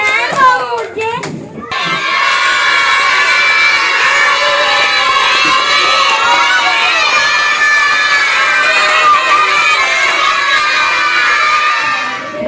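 A class of children at a Christmas celebration bursts into loud cheering and shouting for a classmate named Samira, a dense crowd roar that holds steady after a short burst of talk at the start.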